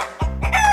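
A chicken gives two short, close clucks in quick succession, loud and clear with nothing else around them.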